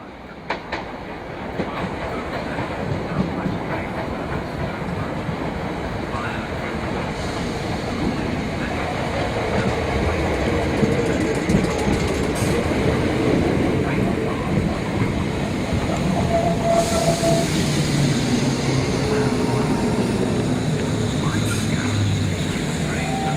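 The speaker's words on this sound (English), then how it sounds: "with the boxier end of 455-868, complete with roof-mounted horns arriving from the north." A Class 455 third-rail electric multiple unit rolls into a station on the Southern England DC network, its rumble and wheel clatter building steadily and staying loud and close, with a few sharp squeals and a voice speaking over it.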